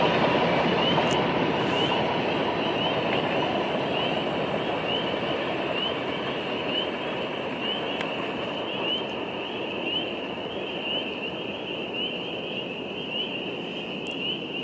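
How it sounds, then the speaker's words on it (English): Train rolling past, a dense continuous rumble and rush with a steady high chorus of spring peepers trilling over it, no talk. "Trains amid spring peepers."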